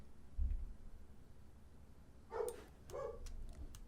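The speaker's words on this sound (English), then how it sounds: "Oh no, my dog's barking down there and being very annoying" A dog barks downstairs, two muffled barks from a distance over a low background hum.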